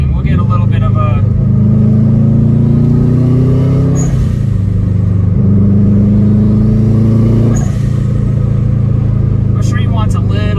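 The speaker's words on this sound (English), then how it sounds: "this car is so much fun to drive" A Subaru Forester STI's engine pulls hard through the gears from inside the cabin, loud and steady, with rising revs that dip at each shift around a few seconds apart.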